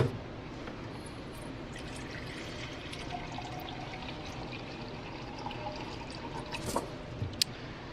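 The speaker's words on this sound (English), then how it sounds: "I'm gonna add more water." Water pours onto dry ice in a tray, making a continuous bubbling, fizzing wash with scattered drips and a few sharper splashes toward the end, fairly quiet and close.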